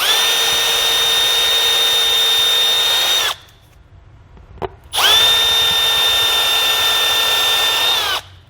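A power drill whines steadily at high speed for a few seconds, drilling from the back side of a battery disconnect installation on a 2017 GMC Canyon, stops briefly with a small knock, then runs again for another long burst.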